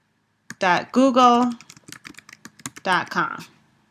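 A URL being typed on a computer keyboard: a quick run of light, close key taps between stretches of a person talking.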